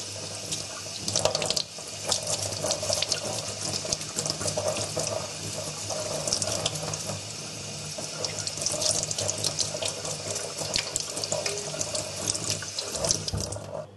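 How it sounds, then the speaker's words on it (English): Anodized aluminum part rinsed under a running tap, a steady close splashing stream of water that continues throughout. "Okay, and we'll rinse this one."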